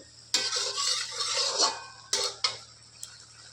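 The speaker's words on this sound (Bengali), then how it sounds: "এখন আমি ভালো করে নেড়ে চেড়ে আবার ভেজে নেব।" Leafy greens stirred and fried in a pan, with a spatula scraping and clinking against the metal in several bursts over a faint sizzle, close and alone.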